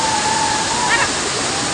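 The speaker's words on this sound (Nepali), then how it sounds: "यो चाहिँ पासाङ झरना रहेछ" Okhreni (Pasang) waterfall near Sundarijal flows as a steady, loud broadband roar of falling water. A brief faint tone sounds over it.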